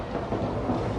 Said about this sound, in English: It sounds like it is thunder.